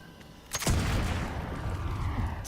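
A single loud shot from a Berserker Explosive black powder rifle in Fallout 76 cracks out close by, then a heavy rumbling tail carries on to the end.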